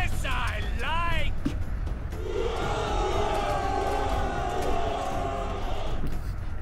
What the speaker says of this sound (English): That was the saddest cheer I have ever heard in my life.